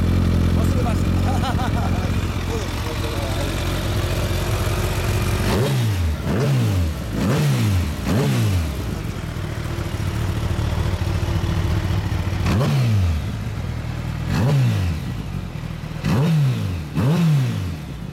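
A 2013 Kawasaki Ninja ZX-14R with SUDA tuning and a BEET exhaust revs on a dyno, a steady loud engine drone broken by a series of sharp throttle blips, some close together, in the second half.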